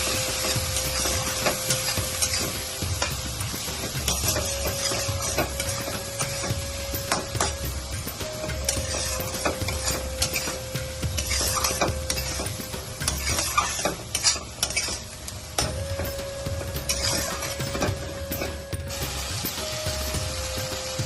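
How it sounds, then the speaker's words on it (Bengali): Spice masala of red chilli, coriander and cumin powder being sautéed and stirred in a pan for prawn bhapa, with a steady sizzle and scraping stir sounds running throughout, close and continuous. "তো মশলাটা কষানো হয়ে গেছে, এবার চিংড়ি মাছ ভাজাটা দিয়ে দেব।"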